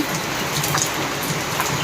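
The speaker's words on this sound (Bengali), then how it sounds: "আর বাইরে প্রচণ্ড বৃষ্টি পড়ছে" Heavy rain pours down outside in a dense, steady hiss of drops hitting surfaces, with no break or other sound over it.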